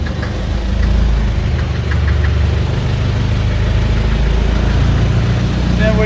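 Engine of a 1941 Mercedes Wehrmacht truck runs steadily at idle with a low, knocking throb, loud and close throughout, with faint background voices.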